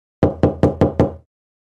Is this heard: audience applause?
no